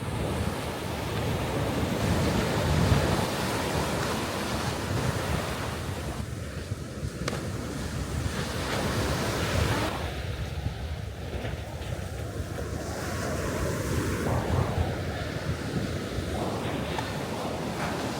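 Ocean waves wash continuously onto a sunny beach with cold water, a steady roaring surf mixed with wind buffeting the microphone and a faint tonal hum at times.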